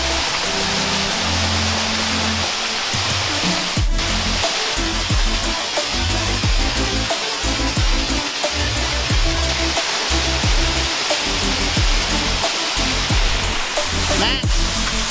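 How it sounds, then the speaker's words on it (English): Reynolds Falls, a waterfall in Arkansas, roars as a loud, steady broadband rush of falling water filling the whole stretch, close by and continuous, with a few faint knocks from handling. "Found the first waterfall, and I've got Reynolds Falls"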